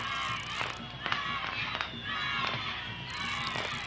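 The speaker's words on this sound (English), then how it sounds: "the crowd is beginning to chant" A large outdoor crowd chants and cheers at the Zozobra burning, a dense mass of voices rising and falling in waves across the scene, with shouts and excited calls layered throughout.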